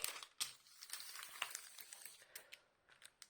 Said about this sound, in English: You can sort of peel back the plastic.